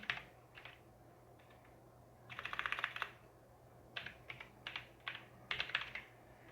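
Someone types a command on a computer keyboard while setting up Windows Server 2022: quick bursts of close, crisp key clicks in several separate runs, with a faint steady hum underneath and no talking.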